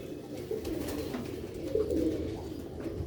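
Sialkoti pigeons give soft, repeated rolling coos at a steady moderate level, with no voices.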